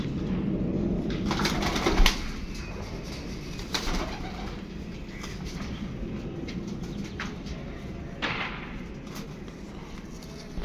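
Pigeons, a female paired with a male on a rooftop loft, coo softly and steadily amid low rumbling background noise, with a few brief wing flaps standing out.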